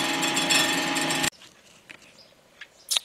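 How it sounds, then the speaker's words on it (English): A Storm Vulcan Blockmaster 85B surfacer cuts the deck of a Willys F134 engine block, a loud steady grinding hiss that stops abruptly partway through, leaving a quiet shop with a few faint clicks and one sharp knock. "You hear it just kind of whispering across the surface there."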